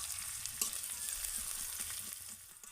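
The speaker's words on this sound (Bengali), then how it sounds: "এবার আমি এগুলোকে ভালো করে একটু ভেজে নেব" Chopped garlic, ginger and green chilli fry in oil in a pan, giving a steady, close hiss and crackle with occasional stirring scrapes and no talk.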